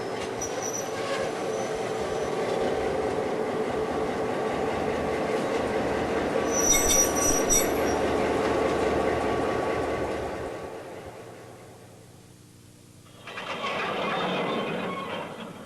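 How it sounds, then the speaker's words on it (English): A local passenger train runs through the quayside railway station at Cove, a steady rumble and clatter of wheels on rails with a brief high squeal of wheels, fading away toward the end, then rising briefly again. "Trains still serve the quayside station, but now they only carry local people going about their daily business."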